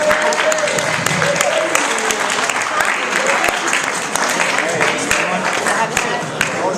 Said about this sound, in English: Can we just clap for them?